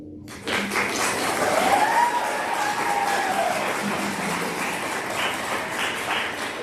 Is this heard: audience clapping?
yes